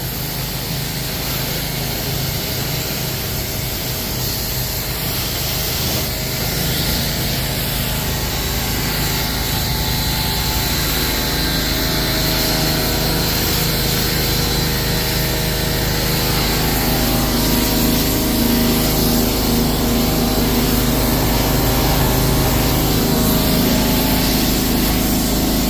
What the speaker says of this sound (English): Spray all that off.